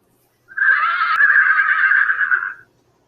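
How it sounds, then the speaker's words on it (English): A single horse whinny from inside a barn, loud and close, a shaky quavering call lasting about two seconds before fading to silence. "I hear horses whinnying from inside the barn"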